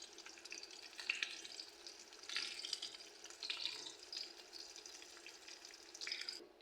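Meat for Kuwaiti majboos frying in a pan, a steady close crackling sizzle with brief louder bursts as the pieces are moved, no voices.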